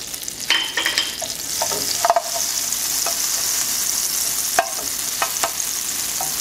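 Garlic pieces sizzle loudly in a hot pan while being stirred, the constant frying hiss broken by sharp scrapes and clinks of the utensil against the metal.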